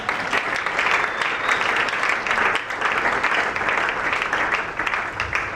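Church congregation applauding and cheering for Jesus at a Congolese revival church plenary gathering, a steady, dense wash of clapping and cheers filling the room without letup.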